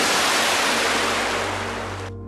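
A river rushes loud and close in a drama scene, a dense continuous roar of flowing water with no voices that cuts off sharply just before the end.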